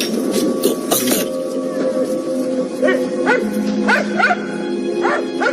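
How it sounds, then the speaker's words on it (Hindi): Several short, high barks and yips from a Pomeranian, somewhat distant indoors, mixed with a steady electronic hum and background music. "जहां से पॉमी के भौंकने की आवाज आ रही थी।"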